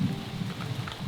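Steady rain falls during an overnight camp up in a treetop, a dense low patter on the surrounding surfaces lasting about a second, close and moderately loud with no talk.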